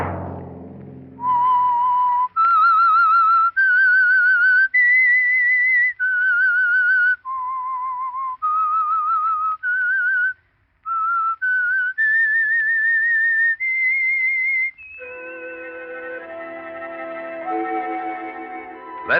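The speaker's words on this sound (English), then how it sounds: "Let that whistle be your signal for the Signal Oil program, The Whistler" A clear, close solo whistle carries the theme of The Whistler radio mystery program, a slow melody of sustained pure notes with short gaps, ending as orchestral music takes over.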